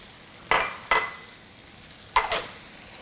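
Lump crab and crawfish get stirred with seasoning in a bowl, making four short scraping clinks in two pairs, close by, with quiet gaps between them.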